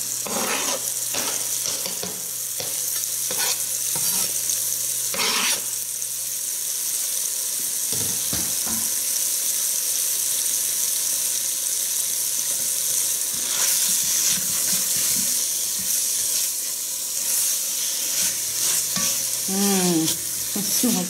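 Sweet Vidalia onion sizzling in a frying pan, a loud continuous hiss with scattered spatter pops and brief scraping stirs, close up and without speech.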